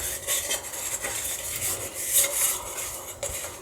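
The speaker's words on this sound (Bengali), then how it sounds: "কেকের বাটিতে আমি এখন সাদা তেল দিয়ে আমি সুন্দর করে এটা মাখিয়ে নেব বাটিটায়" A hand greases a cake bowl with white oil, producing a steady close-up rubbing and swishing against the bowl with small scraping accents, continuous and without speech.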